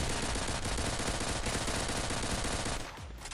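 Automatic pistol fire from the Pixel Strike shooter game in infected mode: a loud, continuous, rapid stream of shots lasting about three seconds, then easing off slightly at the end.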